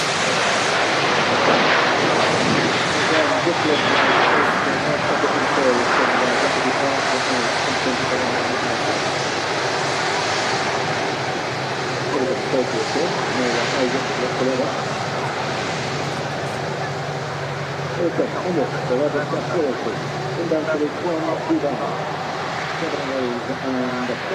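An Airbus A380 airliner arriving at Manchester Airport produces a steady, broad engine roar that fills the whole stretch at a fairly loud, even level, rumbling like distant rushing water.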